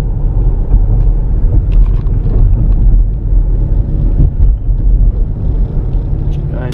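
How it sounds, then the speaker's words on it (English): A car drives along Lawrence Avenue through downtown Norridge, its engine and road noise a steady low rumble from inside the cabin, with a person talking over it. "Just driving here in downtown Norridge, guys."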